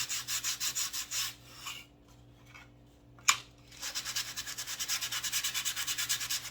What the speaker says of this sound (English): run a piece of sandpaper over the holes